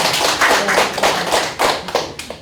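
A small group claps in a short burst of applause at a press conference, with quick, uneven hand claps close by that rise and dip over a couple of seconds and no talk.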